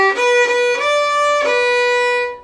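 A violin sounds a sustained, connected D eighth-note figure in legato bowing, several bow strokes flowing into one another without breaks, close and bright with a rich ringing tone and no talking.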